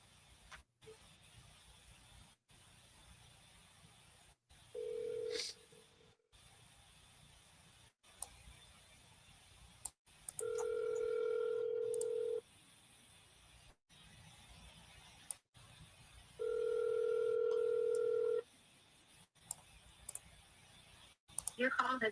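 An outgoing phone call rings through a handset in repeated steady electronic ring tones, each lasting about two seconds with gaps of silence between, faint and thin over a quiet room with occasional clicks.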